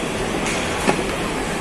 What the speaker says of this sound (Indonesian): Sini kan ada KRL juga yang lewat.